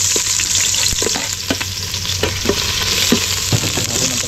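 Tinola ingredients sauté in a pan with a loud, continuous close sizzle and frequent quick clinks and scrapes from stirring throughout.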